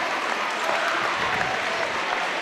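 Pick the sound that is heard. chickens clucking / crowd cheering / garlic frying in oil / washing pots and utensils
crowd cheering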